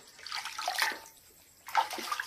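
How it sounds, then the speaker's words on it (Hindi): Water sloshes and pours into a basin while leaves are washed in a village kitchen, two close bursts of splashing separated by a brief quieter pause. "तो अभी देखिए धो ली है और फिर से पानी डाली है ना"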